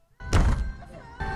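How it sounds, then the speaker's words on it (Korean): A car on a highway slams over a pothole with a sudden heavy thunk, followed by a rattling rumble and a second jolt as the vehicle rolls on. "고속도로를 달리던 차량이 갑자기 크게 덜컹거립니다."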